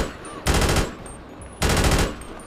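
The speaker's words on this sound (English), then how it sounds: "SMG MK2. It's a little bit more loud." Two loud bursts of rapid SMG MK2 automatic fire from a video game gun sound mod, each lasting about half a second, separated by a short pause with no talking.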